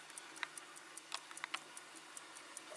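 A vintage 1960s Zlatoust mechanical clock ticks steadily, a faint, close, even run of light ticks in a quiet room with no voices.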